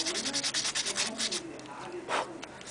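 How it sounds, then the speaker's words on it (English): Fine grade sandpaper rubbed back and forth over a metal section, a quick run of close, even scraping strokes that then slows into a few more spaced rubs, with no voice over it. "What I've got is a bit of fine grade sandpaper. I'm going to give it a bit of a work over just on this section here."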